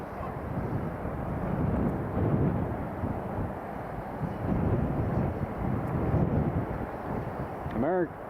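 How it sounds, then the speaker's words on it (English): An American Airlines A321neo at JFK lines up for departure, a steady broadband jet rumble at moderate distance with a brief honk-like chirp near the end. "American A321neo is lining up, ready for departure."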